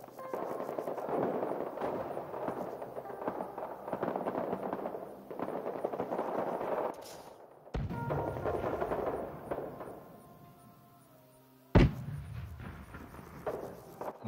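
A grenade explodes amid gunfire in Rising Storm 2: Vietnam, with scattered rifle and machine gun shots in a firefight, a gap, and then a sudden sharp blast near the end.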